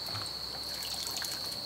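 Running water trickles steadily over boiled soybeans being rinsed, a faint continuous splashing wash with a thin high whine behind it and no voices.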